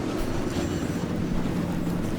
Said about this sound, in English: Alright, engine's fired up.